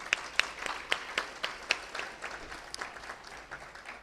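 Scattered, modest applause from a graduation audience for the parents, a thin patter of claps rising and fading in soft bursts.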